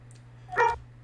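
A single short dog bark from the game Hearts of Iron IV, faint and somewhat distant, over a steady low hum.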